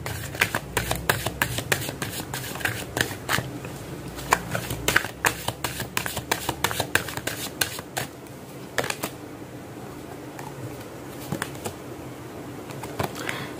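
Tarot cards being shuffled by hand during a card reading, a close series of crisp riffling snaps and flutters, steady and busy at first, then thinning into sparse taps and flicks.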